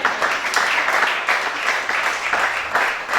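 A church congregation at a night prayer vigil applauding to acclaim the Lord, a dense steady wash of many hands clapping together without a break, moderately loud and heard from within the room.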